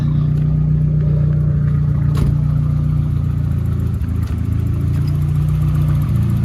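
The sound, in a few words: Nissan 240SX KA24E-T turbo engine idling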